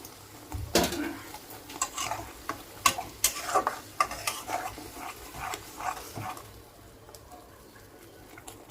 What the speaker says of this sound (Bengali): গ্যাসের ফ্লেম হাই রেখে আমি 2 মিনিটের মতো এটা নাড়াচাড়া করব